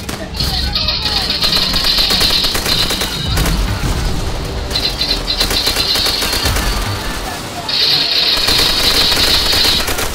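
Sustained bursts of automatic gunfire in the co-op campaign of the video game Call of Duty, loud and close, with rapid shots and booming impacts filling the whole span while voices talk over the battle.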